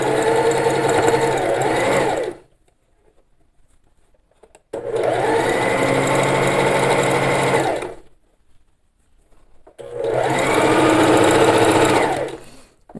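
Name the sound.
sewing machine stitching bias binding onto a souplast placemat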